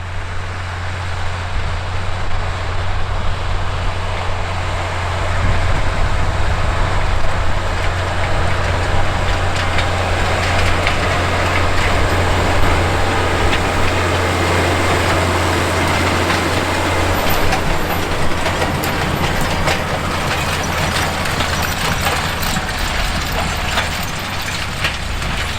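A John Deere 9R 490 tractor pulls a subsoiler through a former cattle pasture, its engine droning steadily and loudly for the whole stretch, with rattling, knocking implement noise layered over the low rumble.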